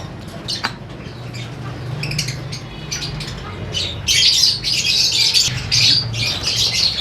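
Pet breeding birds, including a lutino pair, squawk in an aviary breeding setup, with scattered harsh calls at first building into a loud, busy chorus of overlapping squawks nearby.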